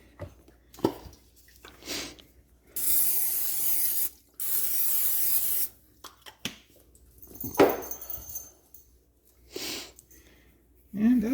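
Cooking spray hissing onto a preheated waffle maker, two sustained bursts of a few seconds each, close and clear, with quieter handling noises and soft talk around them.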